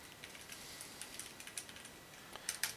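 Typing on a computer keyboard with noise reduction switched off: light, irregular key clicks close to the mic over a hissy background, growing quicker and louder at the end.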